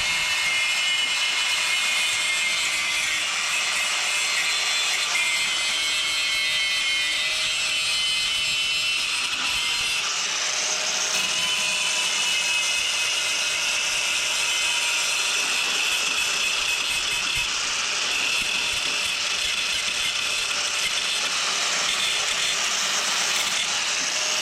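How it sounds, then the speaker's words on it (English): A cutoff wheel grinds paint off the bare metal of a VW Beetle, making a continuous, harsh, high-pitched whine that shifts slightly in tone throughout and stays loud and close, with no talking. "I can't get a sanding disc in there, so I'm gonna use a cutoff wheel."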